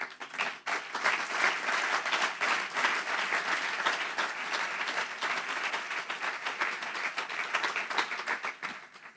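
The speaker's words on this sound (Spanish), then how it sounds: "Dale un aplauso al Señor." A church congregation at a Spanish-language sermon breaks into sustained, dense applause, many hands clapping steadily and loudly for about nine seconds with no talk over it.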